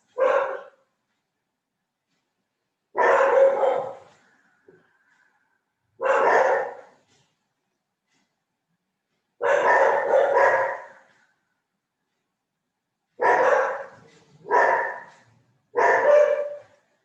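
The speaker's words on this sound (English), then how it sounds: "Apologies about the dogs in the background, they're going a bit bonkers." Dogs bark in bursts from somewhere nearby, about seven loud separate volleys spread across the stretch with silent gaps between them, some barks coming in quick doubles.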